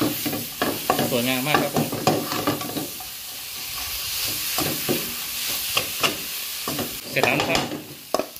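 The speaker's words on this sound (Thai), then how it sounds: "ก็ผัดอีกรอบครับ" Pad thai stir-fried in a pan with bean sprouts and dried shrimp, a spatula scraping and clanking steadily over a low sizzle, with someone speaking briefly at the start and end.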